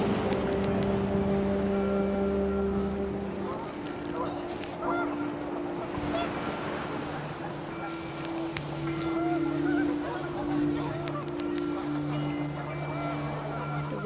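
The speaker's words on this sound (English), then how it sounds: "The wind picked up, and panicked geese appeared and quickly went." Panicked geese honking in the video game What Remains of Edith Finch, a cluster of loud calls amid wind and outdoor ambience, with a person talking over it.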